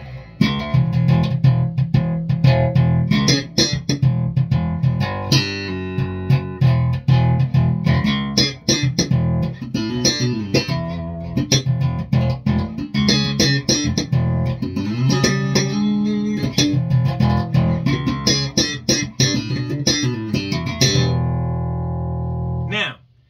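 A bass guitar with a Bass Mod setting at D10 plays a steady run of deep notes with bass and natural mids, loud and continuous with no talk, before the final note is cut short.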